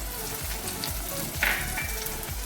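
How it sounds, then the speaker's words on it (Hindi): Garlic and green chillies fry in oil in a pan over medium flame, giving a continuous close sizzle with soft crackles and a low hum underneath. "अब फ्लेम को हमने मीडियम कर देना है और हल्की फ्लेम के ऊपर इन सारी चीज़ों को अच्छे तरीके से फ्राई कर लें"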